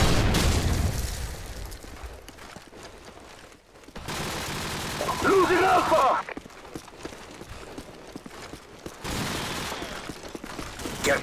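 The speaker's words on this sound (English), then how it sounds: "Friendly airstrike on the way." Airstrike explosions in Call of Duty 4 Modern Warfare multiplayer: several broad, rumbling booms and bursts spread across the stretch, mixed with game voice callouts and battlefield noise.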